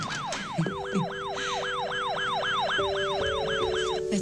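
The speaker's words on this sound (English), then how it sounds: "Who gets to do the siren?" A toy police car siren wails in fast, regular rising-and-falling sweeps, about a dozen cycles, loud and close, with steady electronic tones held underneath.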